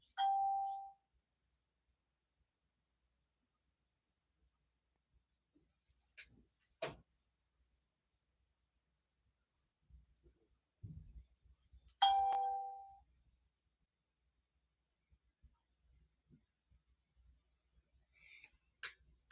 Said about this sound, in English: That's just notifications for the lives.